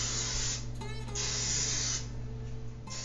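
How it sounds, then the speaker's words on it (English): Cooking spray hisses out of an aerosol can in a steady continuous burst into a bundt pan, close and fairly loud, with brief shifts as the nozzle moves around the pan. "spray the bundt pan."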